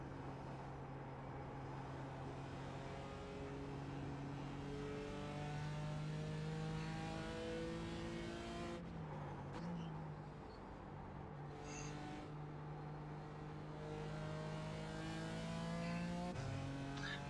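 BMW GT4 race car in the iRacing sim, engine droning and revving up through gears in repeated rising sweeps, a brief lift and downshift midway, steady and fairly quiet throughout.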